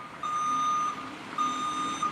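A garbage truck's reversing alarm sounds two long, loud steady tones close by, separated by a short gap, with no talk over them.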